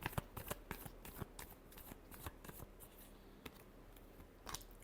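Tarot cards are shuffled by hand in soft, rapid riffles and taps, a quiet, close run of papery flicks with brief pauses.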